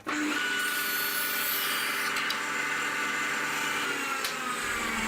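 A power planer straightening and beveling short wooden pieces runs as a steady, loud high-pitched whine throughout, with brief cutting surges and no talking.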